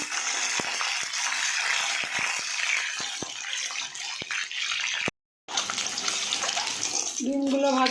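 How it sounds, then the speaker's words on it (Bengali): Eggs fry in oil with a steady close hiss and scattered sharp pops, then a brief silence, after which the sizzle returns and ends in bubbling spurts. "সব ডিমগুলোকে ভেজে নেব।"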